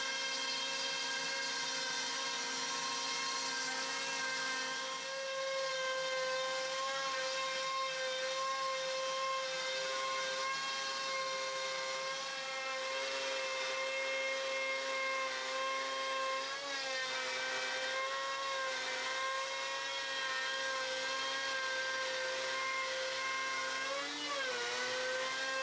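A home CNC machine cuts wood dining chair parts, its spindle whining in a steady high tone with shifting pitch as the router moves, a continuous mechanical drone with no talk.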